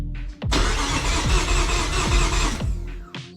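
A Mazda MX-3 engine cranks on the starter during a compression test, a steady rhythmic churning of about two seconds with short clicks before and after, close and fairly loud.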